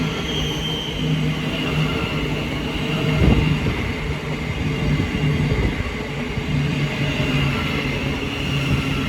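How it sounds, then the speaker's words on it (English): A Thameslink Class 700 electric train passes through Hitchin station on the East Coast Main Line, rumbling with a steady motor hum and a brief louder burst partway through. "1448 Thameslink service from London King's Cross to Cambridge, being worked by a class 700."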